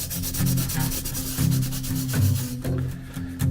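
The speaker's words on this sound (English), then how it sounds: "I'm going to put it on with a bit of wire wool" Lavender wax being worked onto a surface with wire wool, cold and stiff, giving a close, steady scratchy rubbing in repeated back-and-forth strokes with no talking.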